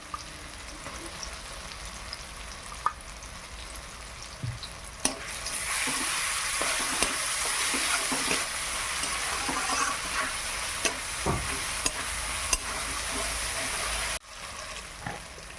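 Ginger-garlic paste hits hot oil with tomato in a village kitchen pan, setting off a loud, steady sizzle from about five seconds on, with scraping stirring strokes and occasional clinks over it and no talk.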